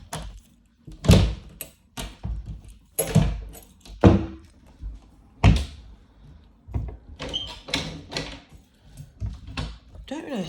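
Interior doors at a move-in inventory inspection, meant to close together, thud shut several times with sharp knocks and rattles, some bouncing slightly back open, close by and spaced across the clip with faint talk between.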